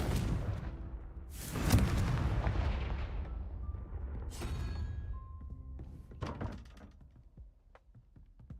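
A Confringo spell explodes in the Hogwarts Legacy video game: a booming blast near two seconds with a heavy rumble, followed by further thuds and magical game effects trailing off, with no voices.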